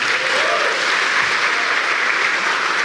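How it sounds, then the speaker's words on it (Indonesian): A comedy show crowd gives loud, dense applause, steady from start to finish with no gaps. "coba tepuk tangan"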